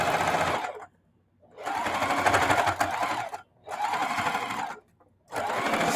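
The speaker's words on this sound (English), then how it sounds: "I'm just putting the little gold stitching just on the inside." Sewing machine stitching gold thread onto red fabric for a small quilted casserole pad, running in three loud, steady bursts with short silent pauses between them.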